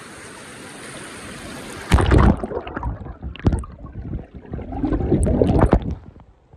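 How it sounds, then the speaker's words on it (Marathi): A phone drops into a stream in a Konkan countryside setting. Steady rushing water gives way to a sudden splash, then muffled underwater gurgling and bubbling, with irregular knocks and swells of flowing water. "चॅलेंजसाठी मी फोन पाण्यात टाकतो आता."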